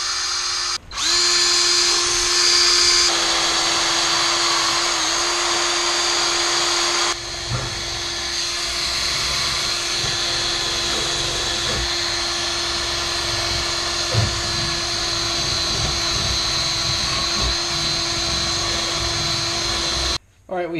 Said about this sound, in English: we hit this with the drill and the wire brush